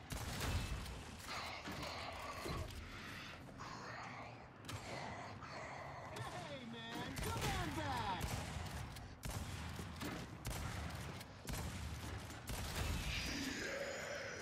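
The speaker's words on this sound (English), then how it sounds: "I gotta hit so many shots to down people in this game." Video game gunfire in a shooter match, with fast repeated bursts and scattered shots amid busy in-game sound effects, fairly loud throughout while a player talks over the action.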